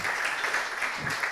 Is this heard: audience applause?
yes